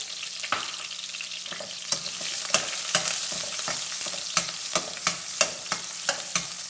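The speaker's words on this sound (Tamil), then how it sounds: "கொஞ்சம் வறுக்கலாங்க எண்ணெயில்." Onion, curry leaves and dry red chillies fry steadily in hot oil for a prawn gravy, a continuous close sizzle broken by a dozen sharp clacks and scrapes of a spoon stirring the pan.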